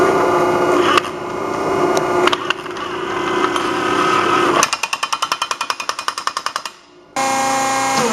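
Impact wrench tightening oiled bolts on a tracked machine's undercarriage during a rebuild, a loud sustained mechanical whir followed by a rapid string of hammering clicks, a brief pause, then the whir again.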